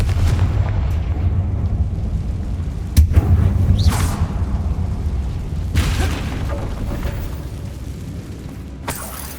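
Confringo blasting curse detonating in Hogwarts Legacy, a booming game explosion around three seconds in with further bursts near four and six seconds, loud over a steady low rumble of ambience.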